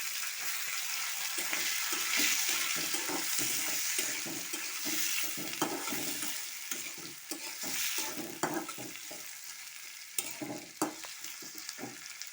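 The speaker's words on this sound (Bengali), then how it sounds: "এই যে পেঁয়াজটা একটু লাল লাল করে ভেজে নিয়েছি" Chopped onion fries in hot oil with bay leaves, cardamom, cinnamon and cloves, giving a steady loud sizzle broken by repeated scraping and stirring clicks from a spatula throughout.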